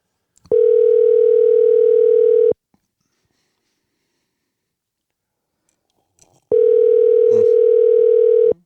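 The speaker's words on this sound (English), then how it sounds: "Let's call Shelby" Two long, steady ringback tones of an outgoing phone call, each lasting about two seconds and separated by a silent gap, loud and close with no talking.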